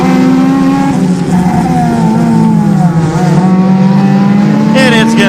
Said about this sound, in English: We're going racing with the Enduros at Irwindale Speedway.